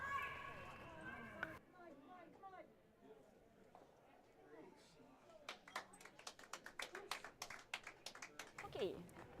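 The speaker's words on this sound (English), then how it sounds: "You can hear that clapping was for Team Flurry" Applause from a curling arena crowd for Team Flurry after a winning shot, a burst of scattered clapping rising in the latter half, with murmured crowd chatter and talk heard earlier.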